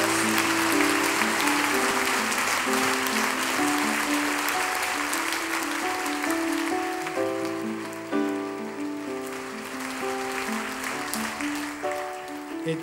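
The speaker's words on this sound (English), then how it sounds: "Now give the Lord the biggest clap" Church congregation clapping loudly and continuously, with sustained music playing beneath the dense applause throughout.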